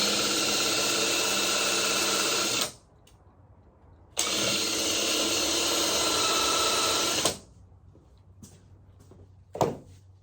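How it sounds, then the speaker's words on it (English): A power drill with a long bit whines steadily into knotted wood for a few seconds, stops, then runs again for another long stretch, followed by a couple of faint knocks. "use my long drill. And this one has a knot. I'm glad I'm free drilling."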